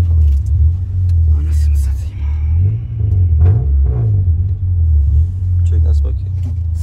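A Honda car revs hard and spins its wheels, a loud continuous engine rumble that rises and falls close by while people talk over it.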